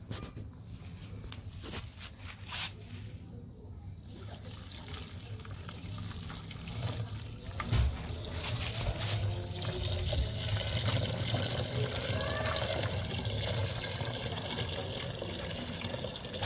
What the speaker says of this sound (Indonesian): Masukkan airnya.